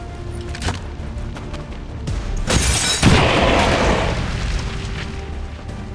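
A frag grenade goes off in the video game XCOM 2 with one loud, close boom midway, followed by a rumbling, crackling decay over the game's background ambience.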